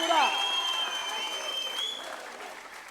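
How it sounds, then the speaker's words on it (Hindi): Loud audience applause at a public felicitation event for Maharashtra Deputy Chief Minister Eknath Shinde, a dense burst of clapping that starts strong and slowly tapers over a few seconds, with a high tone and crowd noise mixed in. "जोर से तालियां"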